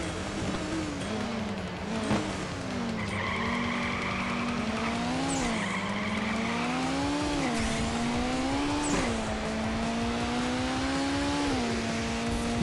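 Racing cars in a quarter-mile drag race in the Nitro Nation video game, Honda Civic Type R, engines revving and whining up through gear shifts with rising pitch sweeps, loud and continuous with no talk.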